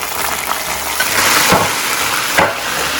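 Semolina tipped into very hot oil for caramelized halwa, giving a broad steady sizzle and frying hiss with a couple of louder bursts as it is stirred, close and without talk.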